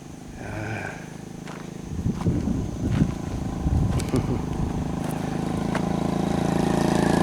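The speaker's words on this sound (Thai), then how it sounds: "เสียงมอไซค์" Motorcycle engines in a lychee orchard in Mae Chai, Phayao, Thailand: a steady low rumble builds and swells as bikes pass, growing louder toward the end, with no voices.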